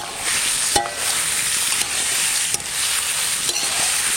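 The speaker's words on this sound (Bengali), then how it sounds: "এইটাকে এখন বন্ধুরা আচ্ছা করে কষাবো পেঁয়াজ রসুন দেওয়ার আগে।" Desi chicken stir-fried in a pan before onion and garlic go in, a steady close sizzle with sharp scraping clicks from a utensil against the pan every second or so.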